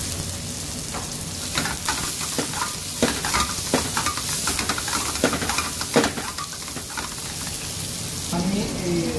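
Zucchini fries in a hot pan for a Bengali shrimp curry, giving a steady, close sizzle broken by repeated scraping and clattering stirs of the spatula.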